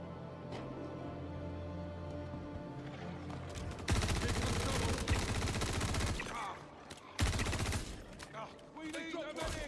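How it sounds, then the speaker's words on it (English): Suppressing gunfire in the video game Star Citizen, a heavy close burst of sustained automatic shots after a quieter stretch, then a short pause and another loud volley, with voices faintly underneath. "Suppressing fire."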